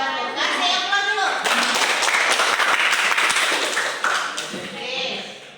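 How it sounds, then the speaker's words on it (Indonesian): Audience applause after a classroom presentation during a teaching-practice session, a dense sustained patter of many hands filling several seconds, fading slightly toward the end with voices mixed in. "Kasih aplaus dulu."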